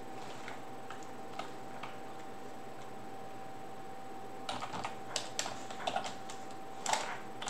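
Keys clatter on a computer keyboard as C++ code is typed, with scattered single taps at first and then quicker clusters of close, crisp clicks over a steady faint hum.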